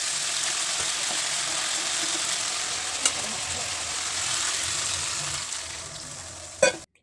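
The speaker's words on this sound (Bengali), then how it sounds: "মশলাটা কষানো হয়ে গেছে, এবার জল ঢেলে দেবো।" Steady hiss of fried spice paste sizzling in a pan as water is poured in for a fish curry, continuous and close, with a couple of sharp clinks near the end.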